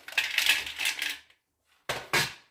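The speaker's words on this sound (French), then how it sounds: "Je vais mettre des petites fritures dedans." Small chocolate Easter eggs clatter into a flexible egg-shaped mould in two clusters of light, close, rattling taps separated by a short silence.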